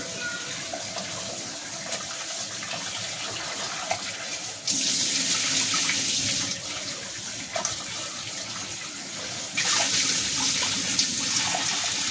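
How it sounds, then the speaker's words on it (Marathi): Water runs steadily from a tap, splashing in a sink, with the flow surging louder twice as mutton pieces are rinsed. "मटण परत एक पाणी धुवून घेऊ"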